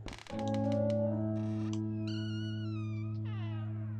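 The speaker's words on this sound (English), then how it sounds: "Is that your cat?" A cat in the video game Marie's Room gives a couple of drawn-out meows over a steady tonal musical drone, with the calls fairly clear and close.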